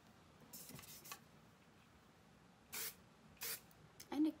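Hairspray misted onto styled curls in short bursts: a couple of close, brief hissing puffs stand out over faint background talk and movement.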